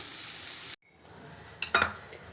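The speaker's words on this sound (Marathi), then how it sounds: "आधी आपण हा कांदा छान परतून घेऊया। छान सोनेरी रंग येईपर्यंत आपण ह्याला परतून घ्यायचा आहे।" Sliced onion sizzles in a pan, the frying cut off by a brief silence, then a couple of metallic clinks and scrapes from stirring as the sizzle returns.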